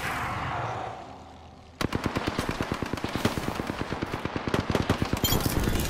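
Rapid automatic gunfire from Apex Legends erupts after a brief quiet stretch, a dense train of sharp close shots hammering on for several seconds with a few heavier bursts mixed in.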